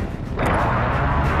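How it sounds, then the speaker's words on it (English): A precision airstrike in Call of Duty: Modern Warfare lands as a loud, close blast that jumps up sharply and then rumbles on without a break, with no talk over it. "Friendly precision airstrike inbound."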